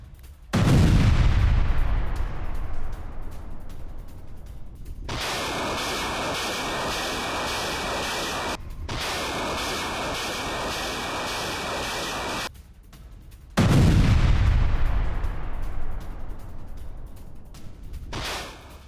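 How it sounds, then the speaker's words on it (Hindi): A Russian Grad multiple rocket launcher fires in Kharkiv: two heavy low booming blasts that rumble and fade, separated by a long stretch of steady rushing roar with a thin whine, close and loud. "खार्किव में रूसी सेना का एमएलआरएस हमला, ग्रैड रॉकेट लॉन्चर से विध्वंसक प्रहार"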